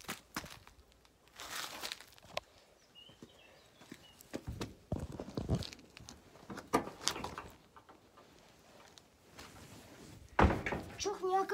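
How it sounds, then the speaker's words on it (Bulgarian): A door slams shut at a villa during a game of hide-and-seek in the yard, heard as a few sharp, fairly loud knocks and bangs among bursts of talking voices and other movement noise. "Чух някакво трескане на врата."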